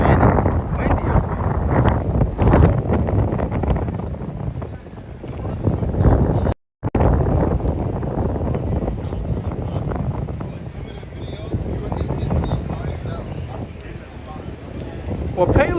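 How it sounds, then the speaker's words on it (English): Strong wind buffeting a microphone on West 33rd Street at 8th Avenue in New York City, a loud continuous rumbling roar with a brief dropout midway, under faint street noise. "Man, it's windy up"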